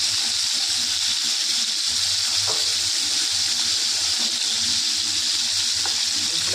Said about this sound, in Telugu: ఇప్పుడైతే ఇదే ఆయిల్లో మాడకుండా ఇలా కొద్దిగా ఒకవైపు బాయిల్ అవ్వగానే ఇంకోవైపు టర్న్ చేసుకుంటూ